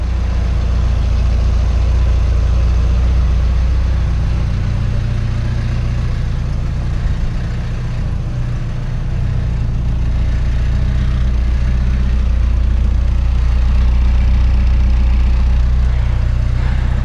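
A 1985 Toyota Corolla II SR AL21 with carburettors and an exhaust leak idles steadily, a loud close low rumble with a rattly exhaust note that holds unbroken for the whole stretch.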